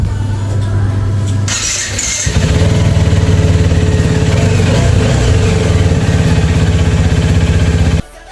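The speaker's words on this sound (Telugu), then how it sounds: "ఆ కోల్డ్ స్టార్ట్ సౌండ్ ఎలా ఉందో వినండి." A TVS Apache RTR motorcycle engine cold-starts after a short stretch of background hum, then settles into a loud, close, steady idle with a rapid pulsing thump before cutting off abruptly at the end.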